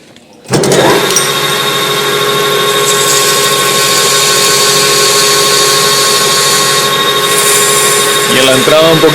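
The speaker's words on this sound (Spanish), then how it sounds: "ahí le vamos a dar un toquecito con la tela esmeril" Steady loud lathe motor whine with layered harmonic hum as emery cloth sands a bearing housing; a continuous grinding hiss runs throughout, starting abruptly near the beginning, with a brief rattling change at the end.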